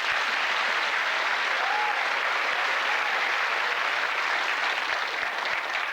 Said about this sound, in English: Give them a cheer, please.